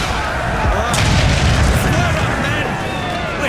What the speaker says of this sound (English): We're gonna hit these boys with a fantastic broadside.